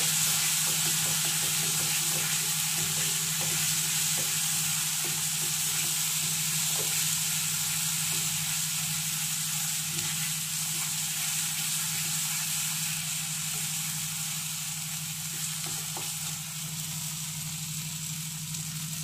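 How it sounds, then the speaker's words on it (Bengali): Spices frying in a pan for prawn malai curry, with a constant loud sizzle and hiss and faint scraping from stirring running unbroken, with no voices. "ভালো করে মশলাগুলোকে মিশিয়ে নেব।"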